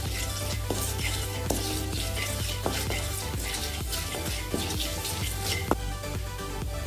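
Cumin seeds and bay leaf sizzle in hot butter for palak paneer, a dense, steady crackle close to the pan with scattered sharper pops throughout and no talking.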